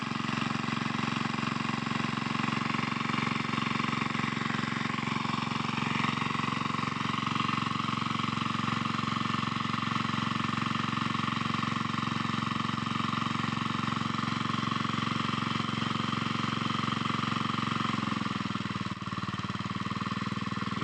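A Honda GK200 engine drives a water pump with a steady, continuous mid-pitched running drone that stays loud and close throughout, dipping slightly near the end.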